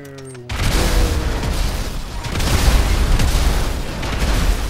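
In the video game GTA 5 Online, a sudden loud grenade blast opens into a continuous roaring rumble of explosions and debris, heavy and close, sustained to the end.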